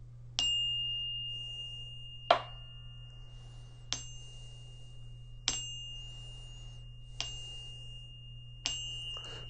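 A mallet strikes a metal percussion bar off-center six times at roughly even intervals, each hit a short dull clank with a muffled, non-ringing tone over a steady low hum.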